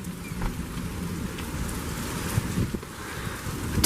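Heavy rain and gusty wind roar through a thunderstorm outdoors, a steady close wash of noise that swells in a few stronger gusts toward the end, with no voices.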